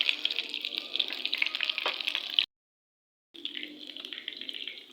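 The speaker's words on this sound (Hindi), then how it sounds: "मीडियम फ्लेम पे मैं इसको इस तरीके से फ्राई कर रही हूँ" Fish shallow-frying in a little ghee and oil over a medium flame, a steady crackling sizzle that drops out briefly to silence midway before resuming.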